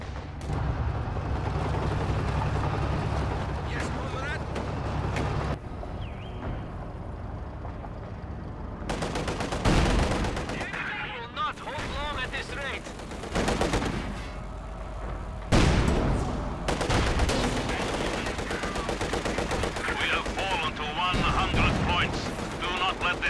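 Gunfire and explosions rattle through a World War II battle in Company of Heroes 2, with dense bursts of shots and blasts forming a continuous loud barrage under a voice announcing game events.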